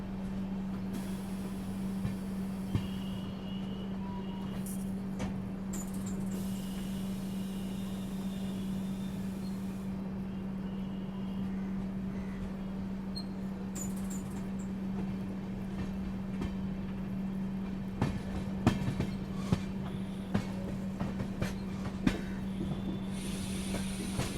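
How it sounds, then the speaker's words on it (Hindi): Duronto express train 12289, the Mumbai–Nagpur Night Rider, entering the last platform at a station, giving a steady low rumble with a constant drone and scattered rail clanks and squeals toward the end, no voices. "बिल्कुल लास्ट वाले प्लेटफॉर्म में दुरंतो को एंट्री दी जा रही है।"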